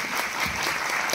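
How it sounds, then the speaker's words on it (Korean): Dense, steady applause from an audience at a film screening talk with the director and actors fills the whole moment, many hands clapping at once without pause. "오늘 좋은 말씀 들려주신 감독님과 배우분들께 큰 박수 드리면서 마무리하겠습니다."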